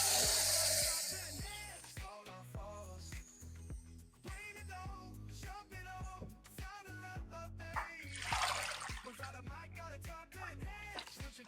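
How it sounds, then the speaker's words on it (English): Rinse water is poured off raw catfish pieces, a gushing splash at the start followed by sloshing and trickling, another heavier pour near the end, with a hum underneath. "I'll pour this water away, give it another rinse"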